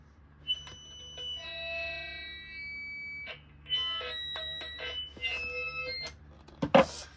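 A British Telecom Loudspeaking Telephone 12A/1 sounds electronic tones from its speaker, sustained bursts separated by short gaps, heard up close in a quiet room, ending with a sharp click.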